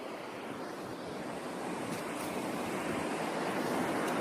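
Water rushes through the half-full Bhakra canal at Rati in Punjab, making a steady, close, broadband roar that swells slightly and never lets up, with no voices.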